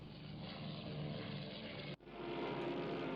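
Enemy aircraft engines in the Rule the Waves II naval strategy game, a steady droning roar that cuts out briefly partway through and then returns, with no talking.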